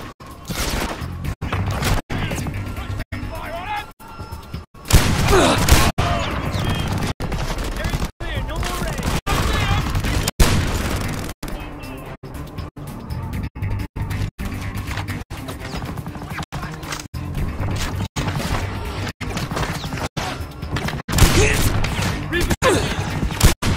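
Gunfire in Frontlines: Fuel of War during a battle for a town, with sharp rapid shots in dense bursts and clattering impacts and a few heavier crashes, a voice talking over the shooting.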